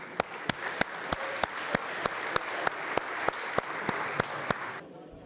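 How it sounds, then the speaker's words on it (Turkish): Applause from the audience at a charity auction held for earthquake victims fills the space as a steady wash of clapping. One loud clap repeats at a regular beat over it, and the sound cuts off abruptly near the end. "Hepinizi alkışlıyoruz."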